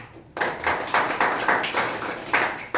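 An audience at a Hindi-speaking public gathering claps in welcome, with several strong rhythmic bursts of hand claps in near-unison, close and fairly loud, no talk.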